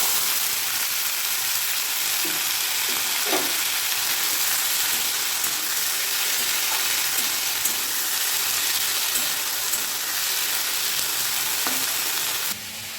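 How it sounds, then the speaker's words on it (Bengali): Potatoes and yardlong beans frying in hot oil, a steady close sizzle with faint stirring knocks scattered through, alone without talk. "তেল গরম হয়ে গেছে দেখো আলু আর বরবটি ভাজা"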